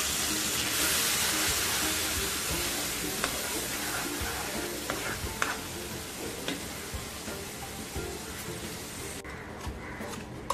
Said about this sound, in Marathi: त्याच्यात आता हा लसूण घालून घेत आहे आणि ही जिरी मोहरी